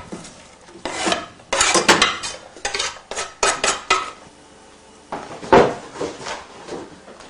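Ingredients tumble into a standard metal cooking pan on a home kitchen stove, with a series of loud clattering knocks and scrapes in uneven bursts, close and alone.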